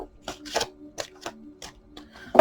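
A deck of tarot cards is shuffled in a quiet room, giving a run of soft, irregular riffling and slapping bursts that end in one louder flurry.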